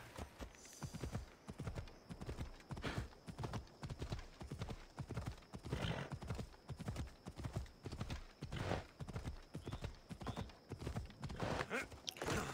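A horse in the video game Assassin's Creed Odyssey clip-clops along at a steady, brisk gait, hooves striking in a continuous even rhythm throughout, with an occasional faint snort.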